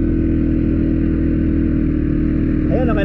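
A powerful 4x4 vehicle engine roars loudly and steadily at close range, a heavy low drone throughout, with a voice cutting in briefly at the end.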